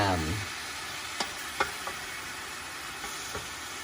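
Meat and onion fry in a pan with a steady, close sizzle, while a utensil scrapes and taps against the metal a few times.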